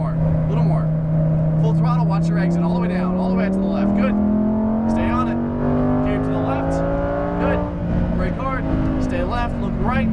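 A Lamborghini Huracan Performante on a racetrack accelerates at full throttle, its engine note climbing loud and steady through the gears while an instructor talks over it.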